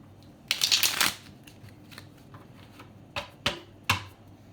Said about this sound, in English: Then shuffle the remaining cards.